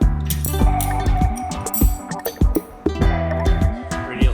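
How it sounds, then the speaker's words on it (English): Metal thrust washer being fitted during top-end assembly of a custom BMW R90/6 airhead engine, giving a run of close, bright metallic clinks and small knocks at an uneven rhythm. "I'm going to put the thrust washer on"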